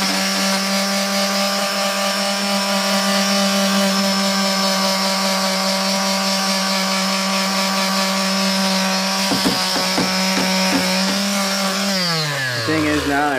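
A power sander works over painted shabby chic furniture with a steady, close, whining motor drone and a little irregular scraping, then the whine drops in pitch as the tool winds down at the end.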